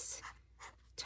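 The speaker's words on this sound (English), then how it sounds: "So I'm going to write that down." Fractions are written down by hand: a pen scratches in several short, close strokes with brief pauses between them, quiet and steady.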